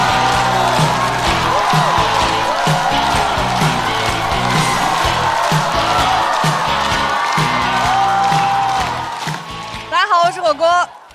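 A studio audience at a stand-up comedy show applauds and cheers a comedian: a loud, sustained wash of clapping and whoops that fades as a voice begins speaking.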